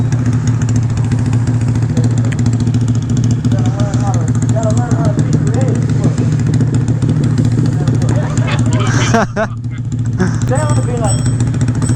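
A Honda Grom motorcycle with a backfire tune runs steadily nearby, its engine droning and idling with a few revs throughout while people talk loudly over it.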